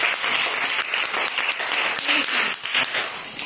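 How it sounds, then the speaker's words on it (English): A class of students applauding during an English lesson: a short burst of dense, close clapping from many hands, fairly loud and steady throughout. "Clap."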